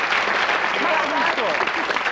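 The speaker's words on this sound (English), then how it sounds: "Give them a round of applause." Studio audience applause on a 1992 Anglia TV game show, Jumble, a dense, steady wash of clapping lasting a couple of seconds with voices mixed in.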